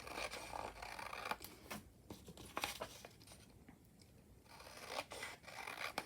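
Repeated crisp snips of scissors slicing through paper pages for a handmade journal, close up, with rustling between cuts and brief pauses, no voices.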